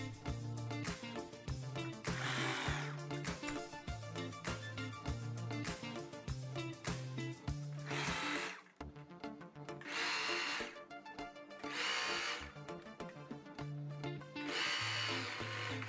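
A sewing machine stitches the armhole seams of a blouse, its motor whirring in repeated bursts with rhythmic needle clatter and brief pauses between runs, fairly close.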